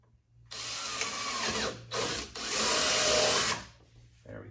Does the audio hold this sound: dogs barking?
no